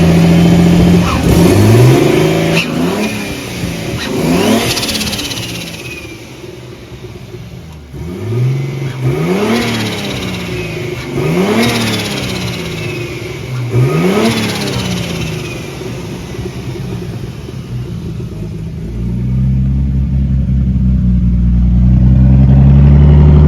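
A Nissan R32 Skyline fitted with a big turbo revs in a series of rising and falling engine sweeps, loud and close, with turbo whine riding over each rev before it settles into idle.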